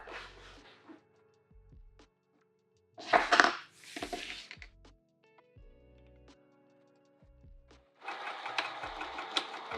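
Sewing machine stitching a handbag with all-purpose polyester thread, heard up close as several bursts of rapid mechanical whirring and clatter separated by pauses, with a few clunks between runs.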